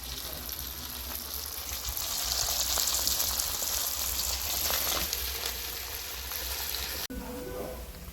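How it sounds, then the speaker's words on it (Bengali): Round bottle gourd fritters deep-frying in hot oil give a steady, loud broadband sizzle that runs almost unbroken, with a brief break near the end where the frying noise drops and resumes. "তেল গরম হয়ে গেছে এবার তেলে আমি গোল গোল করে গুলগুলি দিয়ে দিচ্ছি"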